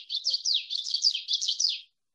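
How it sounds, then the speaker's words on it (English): A common yellowthroat warbler sings a rapid, rolling series of repeated high notes, about six quick phrases in a row, clear and fairly close with no other sounds. "he describes this one as witchety, witchety, witchety"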